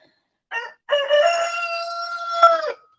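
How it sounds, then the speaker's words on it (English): A rooster crows once nearby, loud and drawn out: a short opening note, a pause, then a long sustained call that breaks off sharply. "listening to my loud rooster who doesn't know how to be quiet"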